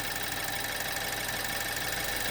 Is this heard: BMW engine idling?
yes